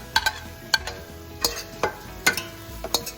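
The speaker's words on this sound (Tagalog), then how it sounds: "ilalagay ko na yung sili natin" Chili peppers, habanero, dropped into a pan of leftover grilled bangus sisig, a series of sharp clinks and scrapes from stirring over a soft sizzle, close and fairly loud.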